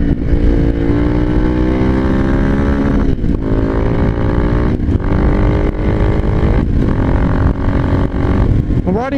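Honda XR650 dirt bike engine revving hard while riding, loud and close with a throaty rising and falling drone, brief dips between throttle pulls and a final upward rev.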